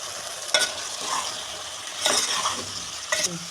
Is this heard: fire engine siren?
no